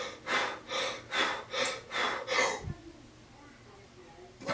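Forceful Wim Hof method breathing, a series of about six deep, rhythmic breaths drawn in and pushed out close to the microphone, then a quiet pause as the breathing stops.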